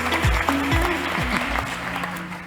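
Applause welcoming a startup founder at a health and wellbeing startup competition, broad clapping with low tonal hum and a few swooping background sounds, fairly loud and steady across the short stretch.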